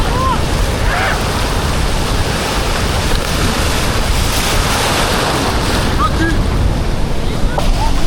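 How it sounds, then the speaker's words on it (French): Ocean surf roars continuously and close, a dense wash of breaking waves mixed with wind buffeting the microphone, with faint voices and a couple of whistle-like cries over it. "Regardez les vagues, regardez les vagues,"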